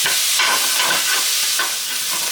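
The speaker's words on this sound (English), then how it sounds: "just saute this for about 15 minutes or so until the onions are soft and golden brown" Finely chopped onions sautéing in a pan, a dense, loud, close sizzle with soft stirring swishes pulsing through it, heard alone.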